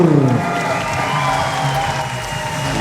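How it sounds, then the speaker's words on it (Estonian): Crowd applauding in the hall at a RAJU 16 fight event, a steady dense wash of clapping and cheering that carries through the whole stretch, with a voice calling out over it at the start. "Daamid ja härrad, veel kord aplaus Maicel Astur!"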